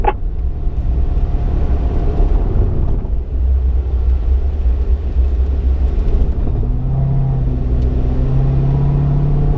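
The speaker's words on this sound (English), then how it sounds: "Now we'll accelerate." A car accelerates hard around a race track through a curve, engine climbing through the gears toward fifth and about 119 mph, loud, steady and close, with no talk.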